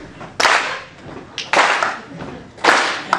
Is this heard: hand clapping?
yes